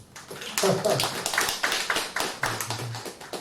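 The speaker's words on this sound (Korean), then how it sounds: "잘했다고 생각하는 박수 한번." A church congregation at a Sunday worship service claps together in a short burst of sharp, fairly close hand claps, each one distinct in a loose rhythm lasting about three seconds, with a voice speaking partway through.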